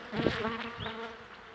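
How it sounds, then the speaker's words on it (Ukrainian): Close buzzing of honeybees at the hive carrying in willow pollen, a droning hum with wingbeats rising and falling as they move around. "Інтенсивно пчілка заносить пергу."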